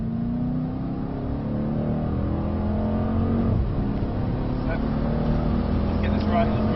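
A 2024 Mercedes C63s on a track at Mercedes Benz World accelerates with a steady engine drone that rises gradually in pitch, heard from inside the car while a voice talks over it.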